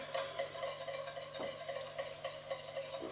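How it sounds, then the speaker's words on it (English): Cream is stirred into a pan sauce for beef, a soft continuous swishing and scraping, fairly faint and even, with a light bubbling hiss underneath. "So now we're ready to start with mixing in the cream."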